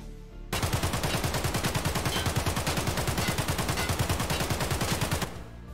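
Rapid sustained automatic fire from an AKS-74 rifle in Escape From Tarkov, a fast steady stream of loud close shots lasting about five seconds, then stopping abruptly.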